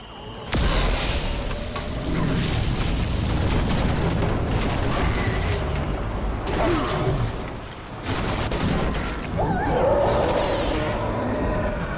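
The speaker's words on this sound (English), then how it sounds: "Detonate the tunnel!" A tunnel detonation in BioShock 2: Minerva's Den: heavy booming explosions and crashing debris roll on with whooshes and rumble, dropping briefly twice before surging back loud.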